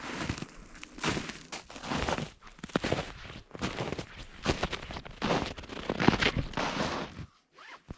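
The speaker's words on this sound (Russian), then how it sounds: "И хруст снега под ногами." Crunching footsteps on snow, a steady run of crisp, close steps with a few brief pauses, ending in quiet.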